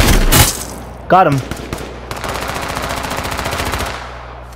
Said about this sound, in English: I got one shooting me.